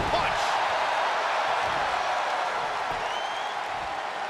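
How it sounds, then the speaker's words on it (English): Arena crowd noise from the wrestling video game WWE 2K23, a dense, steady roar of cheering and applause filling the whole stretch at high volume with no clear break. "What a raucous crowd here tonight."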